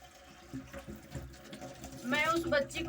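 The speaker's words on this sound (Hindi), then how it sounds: "इस साग में पानी थोड़ा डाल देते हैं।" Water poured into saag cooking in a pot, a short splashing pour that grows louder toward the end, heard beneath a voice.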